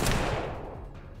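Single gunshot headshot in the video game Colony Ship, a sharp blast at the start that decays into a long rumbling tail, fairly quiet overall.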